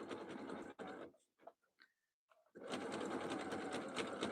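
Home sewing machine running a zigzag stitch while piecing a jelly roll rug, a fast mechanical whir in two bursts with a quiet pause and small handling clicks between.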